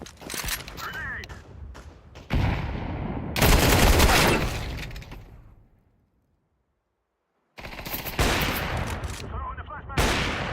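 Grenade blast and rapid gunfire from a Counter-Strike 2 match, loud bursts of shots and a heavy boom rolling through the first half, a sudden drop to silence, then more loud firing returning near the end.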